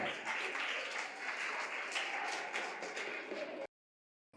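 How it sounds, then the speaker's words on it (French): Students applaud in a classroom quiz contest, a dense, steady patter of many hands that holds at an even level, then cuts off abruptly near the end. "On applaudit pour elle, s'il vous plaît."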